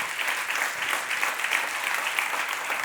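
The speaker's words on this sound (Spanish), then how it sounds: "Él sí se merece un mega aplauso." Church congregation applauding during a service, a dense and steady burst of clapping that carries on evenly, fairly loud and full, with no speech over it.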